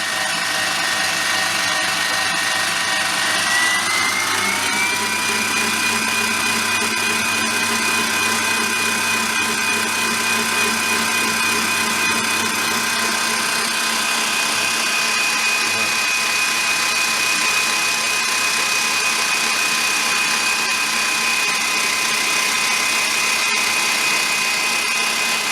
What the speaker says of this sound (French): Et on va mélanger jusqu'à dissolution du sucre dans les blancs.